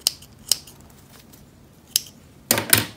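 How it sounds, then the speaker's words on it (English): Scissors snip bonded thread ends on a handmade ID holder, a few crisp isolated clicks spaced apart, then a quick double snip with rustling near the end. "I'm going to trim all these down"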